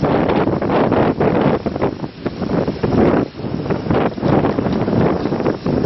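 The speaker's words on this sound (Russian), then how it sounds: "Очень ветрено, не знаю, слышно или нет." Strong gusty wind buffeting the microphone outdoors in a volcanic valley in New Zealand, loud uneven roaring rumble with repeated surges throughout.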